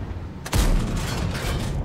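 A tank cannon in World of Tanks fires once, a single heavy boom whose rumbling tail rolls on loudly to the end.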